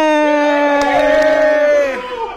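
A group of children at an evening children's show lets out a loud, sustained cheering shout lasting about two seconds; no distinct clapping stands out.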